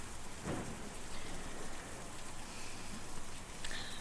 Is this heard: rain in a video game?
yes